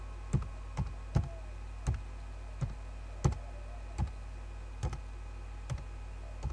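Slow, evenly spaced single key presses on a computer keyboard, about one every half second to second, crisp and close over a steady low hum, with no talking.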